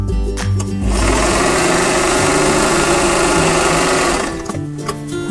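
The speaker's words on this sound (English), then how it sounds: "Stitch a 1/4 inch away from the drawn line." Sewing machine stitching two fabric pieces placed right sides together, a quarter inch from a drawn line; a steady, loud, fast mechanical whir runs for about four seconds, with brief starts and stops at either end.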